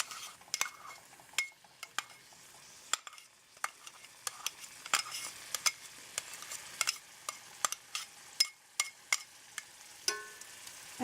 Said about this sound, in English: we're going to saute the onion